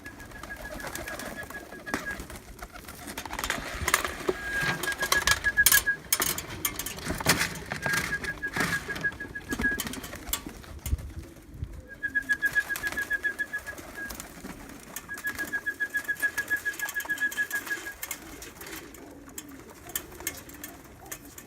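Homing pigeons released on a homestead coo and flutter, with soft repeated cooing calls and bursts of wing flapping scattered through the clip over quiet outdoor background.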